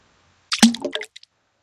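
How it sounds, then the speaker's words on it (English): A single quick splash of a walnut dropping into water, close and sharp, followed by a couple of tiny drips, with silence around it. "The weasel pushed the walnut so he could hear it splash in the water."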